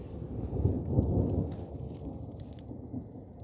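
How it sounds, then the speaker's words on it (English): Low, rolling rumble of distant thunder during a thunderstorm with steady rain, a continuous muffled roar that swells and fades faintly with no voices. "I can hear that thunder."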